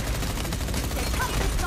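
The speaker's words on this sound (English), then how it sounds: "I can do shooting the turret as Lucian." Rapid gunfire rattles at a turret in Overwatch, a loud continuous automatic burst filling the short moment with dense, even shots.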